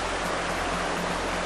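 A brook flows steadily beside a four-season camp in the woods, a continuous broadband rushing and babbling of water, loud and close with no break.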